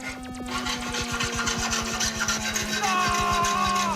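A robot's saw grinds against metal, a steady buzzing drone with a rapid pulsing rhythm and a rising whine near the end, while people talk over it.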